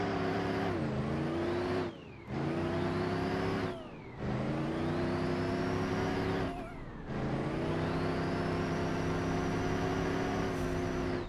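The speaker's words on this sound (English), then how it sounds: "It's just spinning its tires. Even on sticky tarmac, it's spinning its tires." Racing video game car spinning its tires on sticky tarmac after too much nitrous: loud, sustained high engine revving in long rising pulls, cut by brief drops at each shift.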